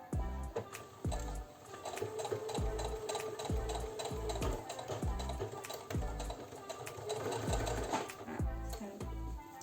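A sewing machine stitches a fabric scrunchie with a ribbon, running in a steady, close mechanical rattle for several seconds with only brief changes in pace.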